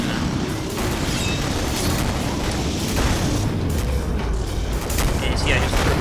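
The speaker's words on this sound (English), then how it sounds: "I just threw a couple of fire grenades there" Fire grenades go off in the video game Killing Floor, a dense, loud, continuous roar of blasts and crackling fire that lasts the whole stretch.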